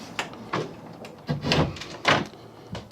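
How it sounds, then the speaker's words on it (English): A door is pulled shut aboard a Seattle houseboat, several close wooden knocks, bumps and slides over a few seconds, fairly quiet with no talking. "I'm gonna shut the door."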